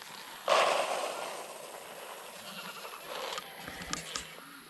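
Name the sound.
goats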